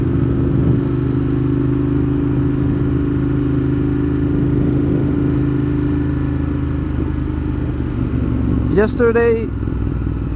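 Ducati Monster 1200 motorcycle from 2015 with a Termignoni exhaust, its engine droning steadily and close throughout on a ride in damp conditions, with a short spoken word near the end.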